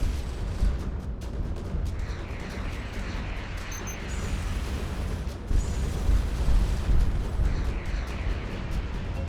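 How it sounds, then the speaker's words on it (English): Missiles in the space game Starcom Nexus fire and explode in a dense, continuous barrage of booms and bursts, loud and rumbling with no pauses. "we are going through missiles like there's no tomorrow."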